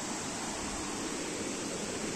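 A mountain stream rushing steadily along a rough, frightening trail, a continuous broadband roar of flowing water close by with no pauses and no voices.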